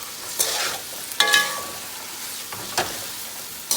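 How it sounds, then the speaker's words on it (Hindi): Chicken sizzles and fries with onions in a pan while being cooked for chicken karela, with a steady low hiss broken by a few sharp stirring scrapes and clatters. "और इसके साथ ही प्याज के साथ चिकन भी फ्राई हो जाएगी। चिकन को अच्छी तरह फ्राई करें।"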